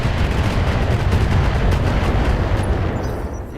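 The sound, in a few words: missile volley firing in BattleTech video game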